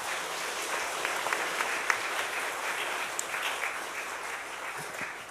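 A church congregation applauds during an Easter Sunday service at a Methodist church, a steady, dense wash of many hands clapping that fills the room at moderate level without a break.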